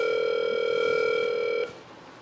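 A steady electronic dial tone from a hotel room telephone plays loudly over the speakerphone, holding evenly for about a second and a half before cutting off into quiet room noise.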